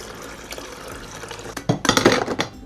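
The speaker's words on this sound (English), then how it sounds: "so now we add our water just to the back of the coffee pot." Water pours into the back reservoir of a coffee maker, a soft trickle swelling into a louder, splashing stream with light clinks near the end.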